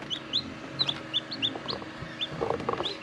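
Newly hatched chicks peep in a steady run of thin, rising chirps, several birds calling close by, with soft rustling and bumps underneath.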